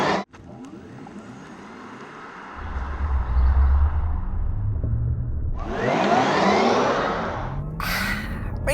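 A Porsche Taycan Turbo Cross Turismo electric car accelerates hard, a rising whine and road rush that builds and surges in waves with wind noise, close and loud with no talking.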